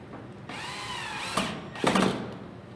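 Power drill driving a screw through gable J channel for soffit trim, two short whirring bursts in close succession, the second louder and rougher as the screw seats, all near and with no talk.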